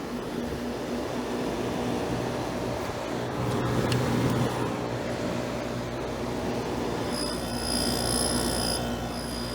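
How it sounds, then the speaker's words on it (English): An air conditioner compressor runs outdoors during a tropical storm, giving a steady mechanical hum with a faint rattle and a brief high whine near the end, at moderate distance and with no voices. "Compressor makes a little bit of noise"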